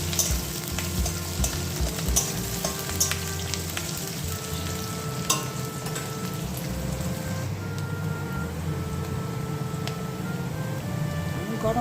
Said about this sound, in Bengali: গরম মশলা তেজপাতা দেওয়ার পরে পেঁয়াজটা ভেজে নিয়ে এবার মশলাটা দিচ্ছি